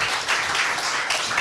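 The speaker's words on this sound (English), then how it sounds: "please give a round of applause to Aaron and his team's project called Ensemble" Audience at a startup demo day in Amsterdam giving a team a round of applause: a dense, steady wash of many hands clapping, with no voices over it.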